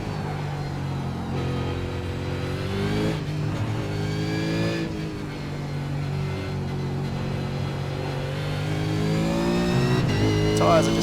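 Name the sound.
V8 Supercar engine and wheel spin in iRacing video game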